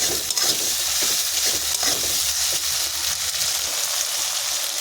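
A spice paste for coriander chicken fries in a pan with a steady sizzle. Occasional soft scrapes of stirring come through near and moderately loud, with no voices.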